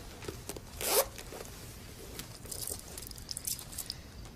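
Zip pockets are unzipped: one quick, raspy zipper pull near the start, followed by soft rustling and small clicks of handling, with no voices.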